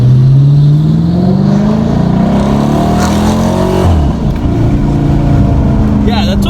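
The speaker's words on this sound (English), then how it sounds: "when it revs into those higher into that higher RPM range, it keeps pulling" A 2010 Dodge Challenger R/T engine revs hard at full throttle, its pitch climbing steadily into high RPM, then dropping and rising again, loud and close throughout.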